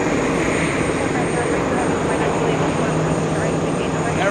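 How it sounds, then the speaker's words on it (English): An Emirates jet in The Journey of Tomorrow livery lifts off runway 4 left at JFK close by, its engines pouring out a loud, continuous roar with a high whine on top, while a voice talks faintly beneath it. "Lifted off right in front of us on runway 4 left"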